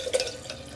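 A drink is poured back into a container, a brief close liquid splash and trickle that quickly fades.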